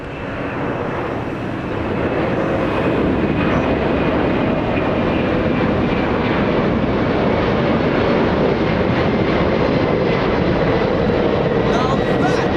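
A 1992 FedEx cargo jet bound for Memphis takes off at Los Angeles International Airport, a loud, continuous engine roar that swells in the first seconds and then holds steady and powerful throughout.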